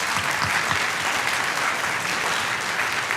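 An audience at a school winter band concert applauds a pianist before he plays, a dense, steady wash of clapping hands filling the hall at even loudness throughout.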